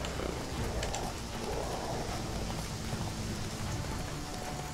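Steady rain falls in The Witcher 3, a dense, even hiss that holds the whole time with a faint low rumble beneath and no voices.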